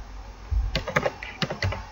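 Someone types on a computer keyboard while entering column headings into an Excel spreadsheet, making a quick irregular run of close clicky keystrokes with no voice over them.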